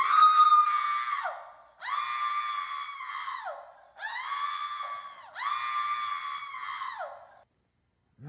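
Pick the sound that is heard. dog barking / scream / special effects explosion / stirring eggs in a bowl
scream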